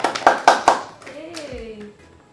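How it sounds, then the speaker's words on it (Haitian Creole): A few people give a short burst of hand clapping, several sharp claps in quick succession, close and loud, and then a voice speaks briefly after the applause. "je vais battre un petit bravo pour lui"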